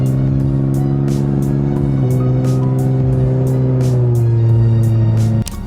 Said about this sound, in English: Oh my god, this car is so loud.